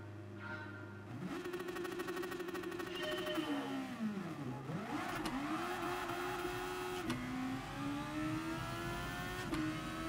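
A Super Formula race car engine in Gran Turismo Sport at Suzuka revs and whines steadily, pitch climbing, dipping sharply, then climbing again through gear changes, a continuous close synthetic drone.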